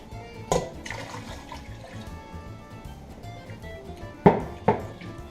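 Water is poured into a pot of homemade Italian spaghetti sauce with tomato paste, giving a soft, fairly faint splashing and trickling with a few sharper splashes near the start and end.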